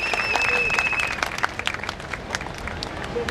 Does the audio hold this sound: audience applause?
yes